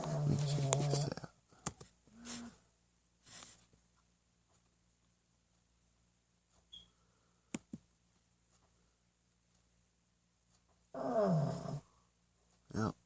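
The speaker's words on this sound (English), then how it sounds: "Yep, that's Roscoe Snoring." A pet snores in a few soft, low, intermittent bursts separated by long quiet gaps, with a person talking nearby at the start and end.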